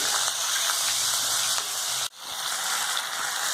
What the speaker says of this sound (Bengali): বোথ সাইড ভালো করে ভেজে নেওয়া হবে।